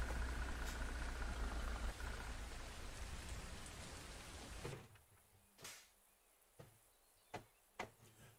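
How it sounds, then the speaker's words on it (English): Steady rain pours down on a Mack truck for several seconds, then stops abruptly, leaving a quiet background with a few scattered drips and taps. "It's been raining this whole time since I've been in here."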